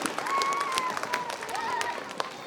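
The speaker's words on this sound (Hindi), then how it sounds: "आप लोगों से गुजारिश है कि जोरदार ताली से इनका इस्तकबाल होना चाहिए" A crowd claps loudly and steadily to welcome an MLA at an award ceremony, with continuous applause from many hands and voices mixed in throughout.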